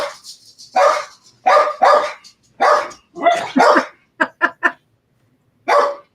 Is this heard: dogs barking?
yes